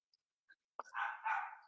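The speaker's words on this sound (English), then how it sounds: "there's a dog barking" A dog barks once nearby in a quiet backyard on an afternoon, a single sharp bark followed by a longer whining, yelping call lasting under a second.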